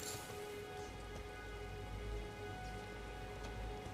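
Steady rainfall in Elden Ring, a dense and even hiss of drops that keeps going throughout. It is faint and distant-sounding, with no voices.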